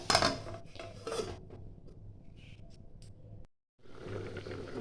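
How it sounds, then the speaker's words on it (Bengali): A lid lifted off a cooking pot of simmering shrimp and mixed vegetable curry gives a couple of close metallic clinks and scrapes over a low bubbling background, then a brief silence. "একটু ঢাকাটা আমি খুলে দেখছি।"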